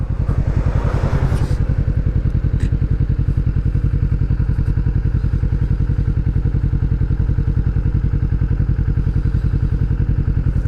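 A 2020 Kawasaki Vulcan S Performance motorcycle rumbles close by with a loud, even, rapidly pulsing engine beat throughout, holding a low steady pace without revving.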